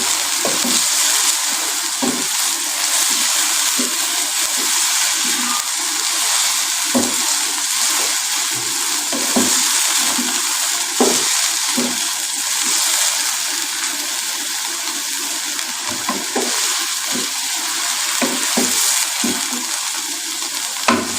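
Fried rice ingredients with a tablespoon of salt cooking in a pan, a steady close sizzle and hiss with frequent scraping, clattering stirs, continuous and fairly loud.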